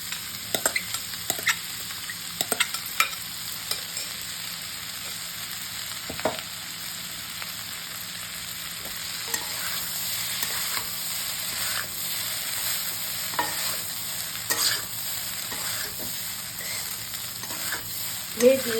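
Rice, ivy gourd and green peas are stir-fried in a pan, a constant close sizzle broken by scattered scrapes and clinks of a spatula against the pan.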